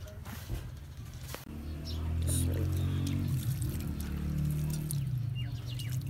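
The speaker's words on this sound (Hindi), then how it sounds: "अभी हम इसमें थोड़ा सा पानी और ऐड करेंगे" Water poured into maida flour dough for samosa, a soft steady trickle and pour under a low background hum, with brief clicks and small handling sounds.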